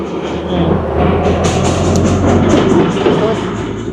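A loud train rumbles past close by, a heavy steady roar with rattling wheels and faint clacking, covering any talk.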